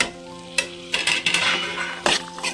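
Green pea curry stirred in a pan over low heat, a bubbling sizzle with several sharp spoon scrapes and knocks against the metal, close up and without speech.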